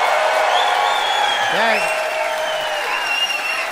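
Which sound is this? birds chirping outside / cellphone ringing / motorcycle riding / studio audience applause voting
studio audience applause voting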